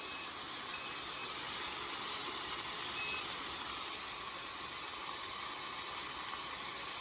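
Bacon strips fry on a Power XL electric grill, a steady, bright hiss filling the whole stretch, a continuous close sizzle with no breaks and no voices.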